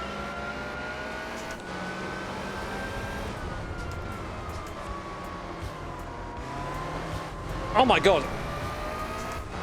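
An underpowered car races in Gran Turismo 4 played on a direct drive wheel, its engine droning steadily at high revs with gradual pitch shifts, a brief squeal near the end, and someone talking over it.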